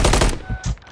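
Enemy gunfire in the Modern Warfare 3 beta Ground War mode, a loud rapid burst of automatic fire in the first third, then a few scattered shots and thuds trailing off.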